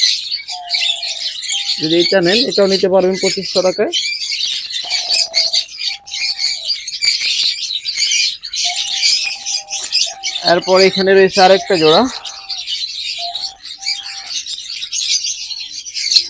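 Several young lovebirds, about three and a half months old, chirp and squawk continuously in a shop setting, with bursts of louder calls, while someone talks over them throughout.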